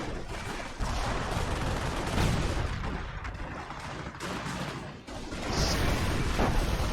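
Machine gun fire from quads suppressing infantry in a war video game, a dense rolling barrage of rapid shots and booms, loud and continuous with brief dips.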